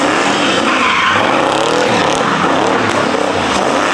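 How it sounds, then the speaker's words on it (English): A Chevrolet Corvette C7 drifts with loud, continuous tire squeal and roaring engine noise, heard close and intense throughout the few seconds. "After 2 failed drifts"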